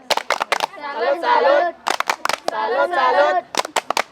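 A group claps in a quick rhythmic pattern of sharp bursts, alternating with stretches of children chanting together in unison.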